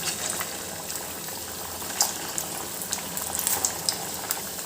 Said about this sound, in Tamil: நம்ம தட்டி வச்சுருந்த வடையை வந்து இதில் ஒன்று ஒன்றா சேர்த்துக்கலாம்